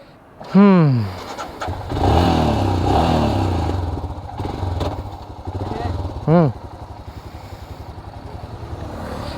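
Motorcycle engine revving up and pulling away on a newly completed riverside road stretch, with rising pitch sweeps near the start and again later, a steady engine rumble beneath, and people talking over it.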